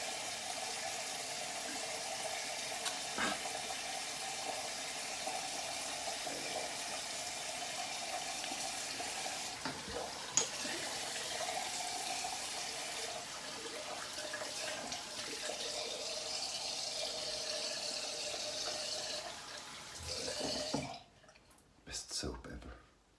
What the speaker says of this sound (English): Really got all the soap off, so I'm not going to rinse as heavily as usual.